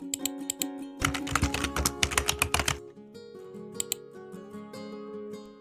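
A payment amount is typed on a keyboard in a quick burst of clicks. Steady background music with tonal notes plays throughout, and a few more sparse clicks follow.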